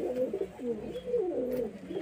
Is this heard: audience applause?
no